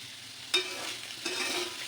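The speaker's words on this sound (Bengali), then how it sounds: "একটা শুকনো লঙ্কা ফোড়ন দিয়েছি আর কালো জিরে ফোড়ন দিয়েছি" A dried red chilli and black cumin seeds hit hot oil, giving a soft sizzle with two sharp crackling bursts, faint and close.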